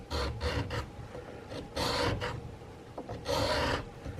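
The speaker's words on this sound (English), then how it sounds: "now I've filed quite a bit of the spout" A flat file rasps across the spout of a homemade powder horn in three or four long bursts of strokes separated by brief pauses, close and fairly loud, with no voice.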